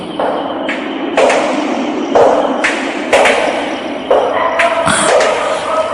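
Footsteps heard as a series of firm, evenly spaced thuds about one per second, close and fairly loud, over a steady background hum with no talk.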